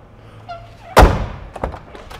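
The door of a Lincoln Mark VII car thuds shut in one solid slam, followed by fainter clicks and knocks as it is worked again, close by and with no talk.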